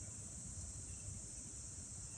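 Steady, high-pitched insect trilling fills the background continuously, like a chorus of crickets at night, with a low rumble underneath.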